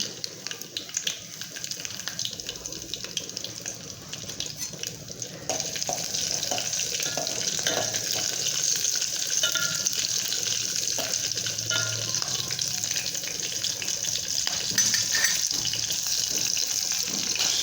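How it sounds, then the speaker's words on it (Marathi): Cumin seeds and green chilies frying in hot oil, a steady close sizzle and crackle that grows louder partway through and holds with scattered pops, with no talking. "आपलं तेल गरम झालेलं आहे आपण जिरे टाकून घेऊ हिरव्या मिरच्या"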